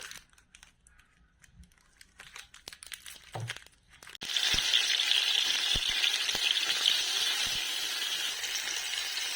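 Oil in a village kitchen wok breaks into a loud, steady frying sizzle partway through, after quieter clinks and handling at the start.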